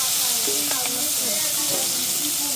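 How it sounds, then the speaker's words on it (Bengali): Small fish sizzle and crackle in hot oil in a wok, a continuous close hiss with scattered pops and spatters. "ছোট মাছগুলো কি কাকড়ি মাছগুলো ভেজে নিবেন, দিয়ে দিলাম কড়াইয়ের মধ্যে"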